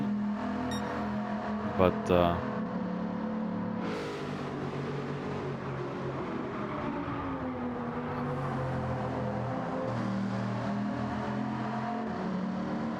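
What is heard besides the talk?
Bugatti racing car engine on track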